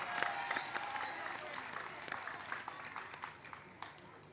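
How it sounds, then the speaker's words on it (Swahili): Audience applause at a talk on true manhood, a dense wash of many hands clapping steadily for several seconds, loud at first and gradually thinning, with some voices mixed in. "piga makofi"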